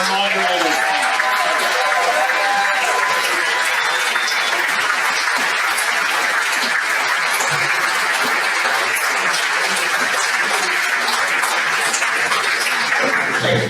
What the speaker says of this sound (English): Can we get a round of applause for our organizers?